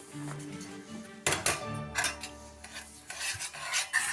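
Quiet scraping and stirring of syrup in a pan with a soft simmering bubble underneath, a few sharper spoon strokes standing out near the end.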